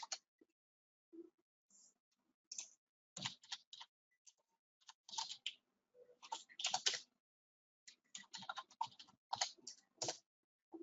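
Arrow keys on a computer keyboard are pressed in quick clusters of soft, close clicks with brief pauses between bursts, while a button is adjusted in the Apus Game Engine.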